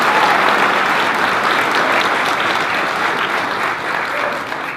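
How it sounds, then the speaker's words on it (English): People at a school board meeting give a unified basketball team a full round of applause, with loud, continuous clapping from the room that fades slightly toward the end. "So how about a nice round of applause?"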